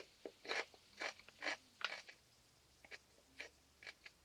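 Crisp, wet crunches of teeth biting and chewing Hottie Bites bagged pickles sound up close, a quick series of loud snaps followed by softer, spaced chewing.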